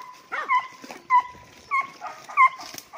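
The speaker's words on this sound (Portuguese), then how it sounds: "O cachorro preto." A black dog whimpers and yips in quick, high-pitched bursts, repeating about five times in close succession, with fairly loud, near cries and thin whining between them.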